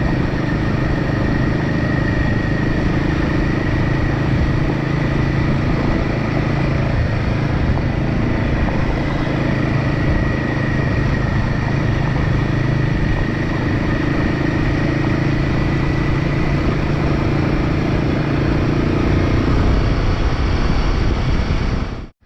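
A Royal Enfield Himalayan 450 motorcycle is ridden steadily through a canyon, a loud, close, continuous engine drone with wind rush and a steady throttle, alone until it cuts off abruptly at the end.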